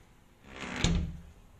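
A hotel room drawer near Jomo Kenyatta International Airport slides and shuts with a single close thud, building from a soft scrape.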